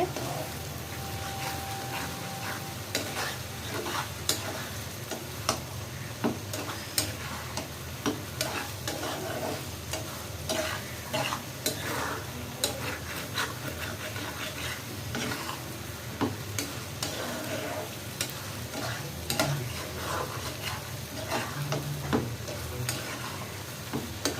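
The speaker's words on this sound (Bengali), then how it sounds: "আর একটু ভাজা ভাজা করব" Chicken skin curry fries in a pan while a spoon stirs it steadily, soft sizzling under repeated scraping and clicking strokes over a long stretch, fairly quiet and close.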